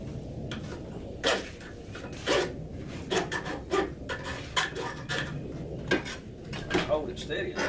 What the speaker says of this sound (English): file a little bit of metal off